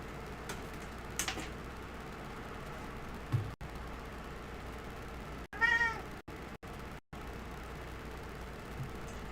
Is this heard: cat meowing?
yes